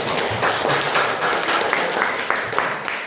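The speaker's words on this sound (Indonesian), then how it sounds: "nah tepuk tangan" A classroom group breaks into steady clapping applause, dense and continuous for a few seconds, with faint voices underneath.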